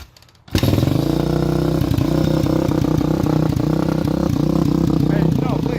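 A Kawasaki KX450F dirt bike engine starts up after a brief quiet moment and runs loud and steady nearby, with a rough, clattering idle and a voice faintly heard over it.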